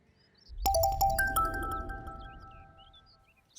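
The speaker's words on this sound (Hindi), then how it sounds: "सोमी का फोन।" A mobile phone rings with an incoming call in a drama scene, a short melodic electronic tone sounding after a soft thump, moderately loud and fading within a few seconds.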